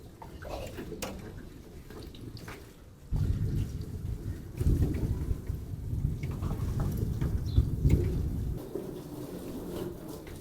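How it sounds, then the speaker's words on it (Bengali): Low, rolling thunder rumbles through most of the clip, swelling in several heavy waves against a steady background wash. "গুড় গুড় গুড় শব্দ করে মেঘ ডাকছে"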